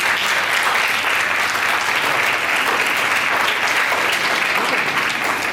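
A crowd at a ring ceremony, where rings are exchanged, claps together in a steady, even round of applause lasting several seconds, full and close with no voices over it.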